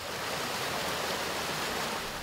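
Treated water from the new Muddy Creek treatment plant near Albright pours into the creek with a loud, steady, unbroken rushing wash, heard alone without voices.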